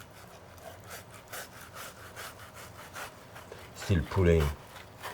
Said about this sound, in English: put it flat, hold it at the end, and move your knife in a jigsaw fashion